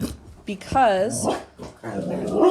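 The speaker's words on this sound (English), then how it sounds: "sorry about the dog, she just heard something in the hallway" A pet dog barks and whimpers indoors, a few loud close yelps and drawn-out whiny calls overlapping a person talking.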